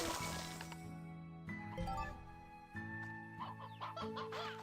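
Chickens cluck in a video game, a run of short clucks and squawks in uneven bursts, moderately loud and close with no one talking over them.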